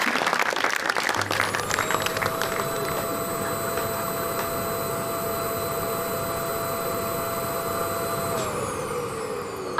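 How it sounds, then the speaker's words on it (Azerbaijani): A studio audience at a comedy show applauds in a dense, steady roar of clapping that fills the whole stretch, with a thin whining tone running over it. "Alqışlarınızla biz davam edirik."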